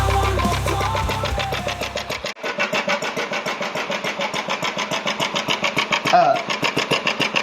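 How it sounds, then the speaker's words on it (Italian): A small engine converted to run on gas made from coal is cranked, then fires and settles into a steady rhythmic chugging, close and fairly loud, with a brief voice partway through. "Accendiamo il motore."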